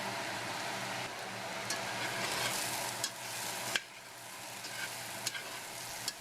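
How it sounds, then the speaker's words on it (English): Potatoes, onions and peppers seasoned with paprika sizzle steadily in a pan, with a few scraping stirs of a utensil breaking through the continuous frying hiss, close and moderately loud with no voices. "giving that a good stir to combine and cooking for 1 minute"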